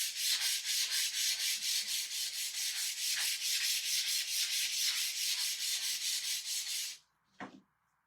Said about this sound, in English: let me sand this down a little bit